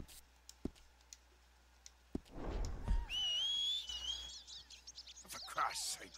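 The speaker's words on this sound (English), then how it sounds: "I can just whistle for the horse" A player in Red Dead Redemption 2 whistles for a horse: a clear, sliding, high whistle rises and wavers across the middle of the clip, with sparse game clicks and faint ambience before and after.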